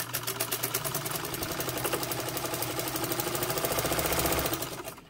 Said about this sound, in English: And this machine will really sew. It has a lot of power.